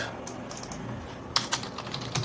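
Someone types on a computer keyboard, and the soft clicks turn into a quick cluster of sharper keystrokes partway through, close and fairly quiet.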